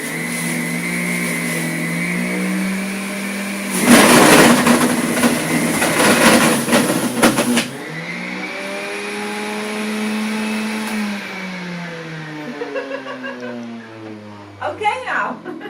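An electric juicer runs through carrots and sweet potatoes with a steady whine, then a loud rough grinding burst for a few seconds as a chunk is fed in, after which the motor settles and winds down.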